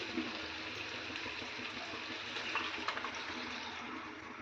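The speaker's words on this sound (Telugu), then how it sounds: "సుమారుగా ఒక 2 గ్లాసెస్ వాటర్ని నేను ఇందులో మిక్సీ జార్లో వేసాను" Water pours steadily into a mixer jar, a soft continuous splashing rush with no voices.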